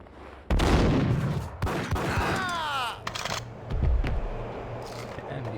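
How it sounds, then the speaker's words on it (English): Shotgun blasts in the game Max Payne come as several sharp, loud gunshots in quick succession, with echoing tails, clattering debris and a faint groan. "shotguns hit hard."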